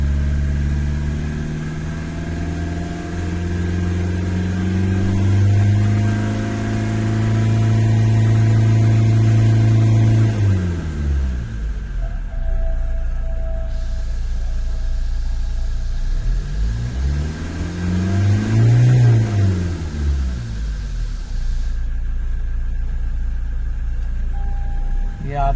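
Toyota Fortuner diesel engine with a turbocharger actuator fault, revved with the accelerator: a loud, steady high rev that drops away, then a second rising and falling rev, all close by.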